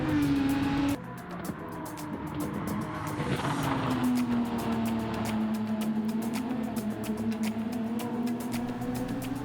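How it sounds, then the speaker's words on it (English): Simulated race car lapping Laguna Seca in a high-tech racing simulator, a steady engine drone that shifts pitch through the corners, with brief tire squeal, continuous and close for the whole stretch. "just a nice leisurely drive through Laguna Seca"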